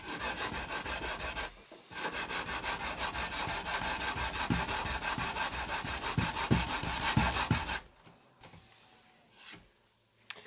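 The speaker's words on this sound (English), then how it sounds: "I'm just gonna sand off the entire edge completely." Sandpaper rubs steadily back and forth along the edge of a wooden Philips A5X83A radio cabinet, a close, continuous rasping scrape for several seconds before stopping, followed by a few faint scuffs.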